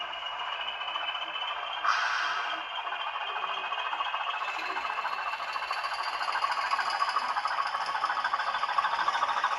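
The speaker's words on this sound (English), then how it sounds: "you can clearly see the locos are moving away quite happily together" Two model locomotives running double-headed move off together, a steady electric motor whine and faint rolling clatter rising slightly as they pull away.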